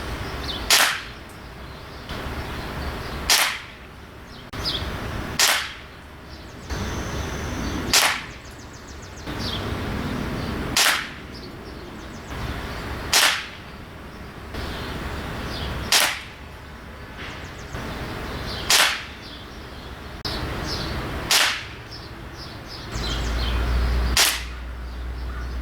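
A Xisico XS-B28 pellet rifle, a clone of the RWS 350 Magnum, fires JSB Monster 13.43 grain pellets: about sixteen sharp, loud cracks spaced a second or two apart, each standing alone over quiet background.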